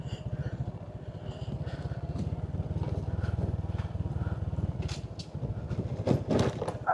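A motorcycle rides over a rough road. Its engine chugs with a steady low pulsing throb, and bumpy rattles and clatter come through near the end.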